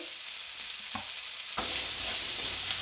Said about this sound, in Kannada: ಚೆನ್ನಾಗಿ ಫ್ರೈ ಮಾಡ್ಕೋಬೇಕು ಇದೆಲ್ಲ ಒಂದು ಆರು ಮೆಣಸು